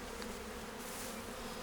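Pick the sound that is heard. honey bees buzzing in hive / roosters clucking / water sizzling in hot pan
honey bees buzzing in hive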